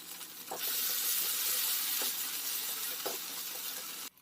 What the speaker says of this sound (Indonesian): Ini kita tumis sampai cabenya itu sedikit layu